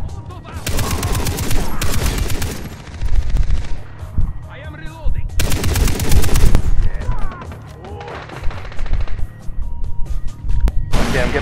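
Mounted gun in Far Cry 3 firing loud rapid bursts in several long strings with short pauses between them, alongside in-game explosions, with faint voices underneath.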